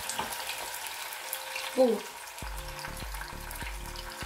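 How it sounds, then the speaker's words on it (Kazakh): Three finely chopped tomatoes fry in hot oil in a pan, giving a steady close sizzle with one brief louder hiss, later joined by rhythmic clicking; a voice speaks briefly. "Келесі табамызды қыздырып, оған сұйық май құямыз және бұған дейін ұсақтап турап алған 3 қызанақты"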